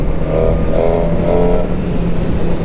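A Suzuki GSX-R 1000 R sport motorcycle with an emissions-restricted engine revs up close, a loud, continuous throaty drone that climbs and dips in pitch with the throttle.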